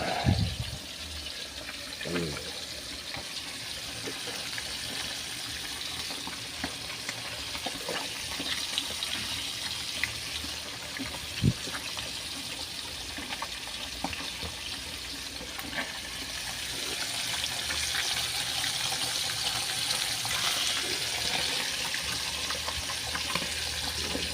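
A pot of water comes to a boil in a home kitchen for shrimp sinigang, giving a continuous bubbling and rushing wash that stays at a moderate level for the whole stretch, with occasional small knocks and no clear talking.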